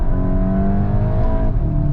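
A 245 hp Volkswagen Golf 8 GTI pulls hard under full throttle, its engine note steady and loud from inside the cabin with a smooth rising whir and no talking.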